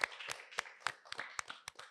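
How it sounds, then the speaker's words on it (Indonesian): A few scattered claps from a small audience welcoming guest Darsawira, about a dozen separate sharp hand claps in an uneven rhythm, fairly quiet and close. "Kita tepuk tangan dulu kali ya sama Darsawira"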